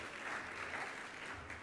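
At a temple fundraiser, a crowd gives donors a round of steady, continuous applause, a dense even wash of clapping at moderate volume with no voices standing out.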